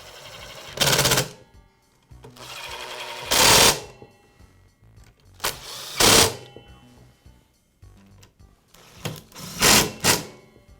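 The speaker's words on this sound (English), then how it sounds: "I'll secure it with the screws." Screws are driven into the housing of a Makita miter saw with a power driver, four loud, close whirring bursts of about a second each, separated by short quiet gaps.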